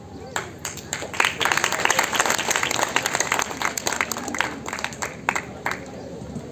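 Applause from students and guests at a ceremony at MBD College in Rampura, Singhwara, Darbhanga, honouring visiting guests, with a crowd clapping steadily and somewhat unevenly at moderate distance throughout.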